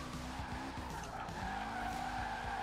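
Mitsubishi Evo 8 tires squealing in a sustained skid while drifting in Forza Horizon 4, with engine revs rising and falling in a steady, continuous stream at moderate level, no voices.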